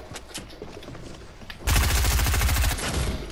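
Automatic weapon fire during a video game tournament match, a loud sustained burst of rapid, evenly spaced shots starting abruptly after quieter distant pops, then easing slightly but continuing to the end.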